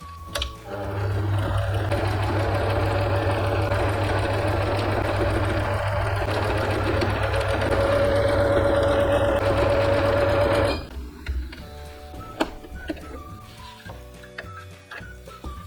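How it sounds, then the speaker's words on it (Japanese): A sewing machine stitches kimono fabric into a phone pouch, running steadily for about ten seconds with a continuous mechanical hum, then stops, leaving quieter handling noises. "じゃあミシン始めます。"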